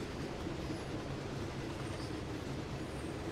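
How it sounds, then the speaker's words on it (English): A freight train carrying a single tanker car rolls past in Train Sim World on the Oakville Subdivision, a steady low rumble of rail wheels and cars at moderate distance, faint and continuous with no talking. "Oh, we got a train carrying just one tanker."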